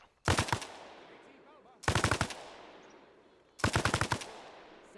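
Three bursts of automatic gunfire in a military video game, each a rapid rattling string of about five to seven shots followed by a fading echo, spaced roughly evenly apart.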